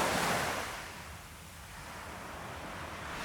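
Steady wind and breaking surf roar at a beach on Prince Edward Island on a warm, slightly windy day. The noise is broad and continuous, swelling and easing, with no voices.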